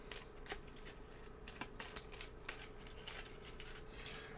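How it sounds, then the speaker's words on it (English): A deck of game cards from a tabletop dungeon game being shuffled, with soft rapid riffling and scattered crisp snaps, quiet and close. "We're going to take that and we're going to shuffle them."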